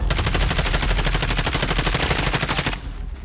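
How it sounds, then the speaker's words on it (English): Rapid automatic gunfire in the video game Call of Duty Modern Warfare, a loud, close, unbroken burst of evenly spaced shots lasting under three seconds before cutting off abruptly. "someone's shooting me from behind, watch it"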